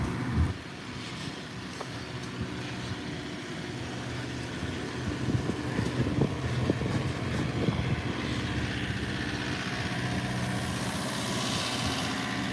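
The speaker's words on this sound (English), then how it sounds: "So we're putting up with a lot of generator noise." Generator running steadily at a flooded waterfront marina on the St. Johns River in Sanford, Florida after Hurricane Ian, a continuous low engine drone with faint clatter and ambient noise around it.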